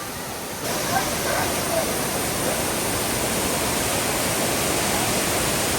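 Waterfall on Siquijor island pouring down into a pool, a loud, dense, continuous roar of rushing water that fills the whole stretch, with faint voices barely audible beneath it.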